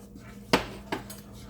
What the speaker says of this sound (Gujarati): આ રીતે બરાબર મિક્સ કરી દેવાનું.